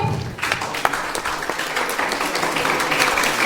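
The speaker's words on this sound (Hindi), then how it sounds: "एक बार जोरदार ताली के साथ आमंत्रित करना होगा" Audience clapping at a school Teacher's Day event, a sustained dense burst of applause starting just after a brief lead-in and continuing steadily, with some crowd noise mixed in.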